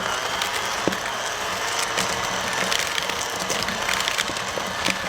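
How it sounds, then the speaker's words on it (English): Electric hand mixer whirring steadily as it creams butter with granular sweetener, a continuous close buzzing motor sound with faint scraping, no voices. "we are just going to cream this together until nice and smooth with your hand mixer"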